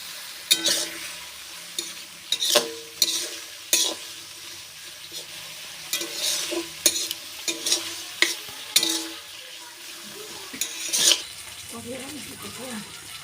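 Chicken meat frying in a pan while being stirred, with repeated sharp scraping strokes of a spatula over a soft sizzle, close and irregular, with brief clinks between strokes.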